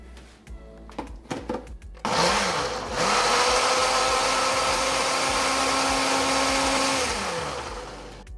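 A blender purees chipotle peppers in adobo sauce with cherries and a splash of cherry juice. After a few short clatters and knocks, the motor starts and runs as a loud, steady whir that holds for several seconds before easing down near the end.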